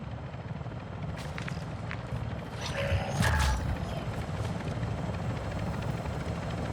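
Helicopter in Call of Duty: Modern Warfare II Warzone 2.0 DMZ, a steady low rotor drone throughout with a brief louder swell partway, alone with no talk.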